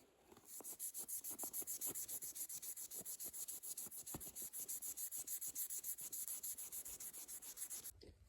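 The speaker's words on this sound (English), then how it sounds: "Here are both of the handles hand sanded up to 2000 grit." Steady back-and-forth hand sanding of a Damascus steel steak knife handle with fine 2000 grit sandpaper, a close, even rhythmic rubbing that runs continuously without talk.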